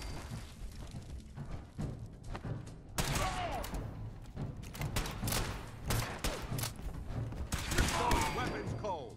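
Gunfire in Fallout 4 at Fort Strong: repeated sharp shots and bursts crackling across the whole stretch, fairly distant and busy, with voices talking intermittently underneath.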